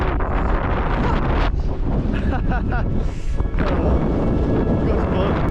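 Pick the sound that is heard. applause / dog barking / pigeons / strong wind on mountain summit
strong wind on mountain summit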